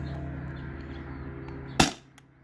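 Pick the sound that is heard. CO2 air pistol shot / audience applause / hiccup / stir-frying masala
CO2 air pistol shot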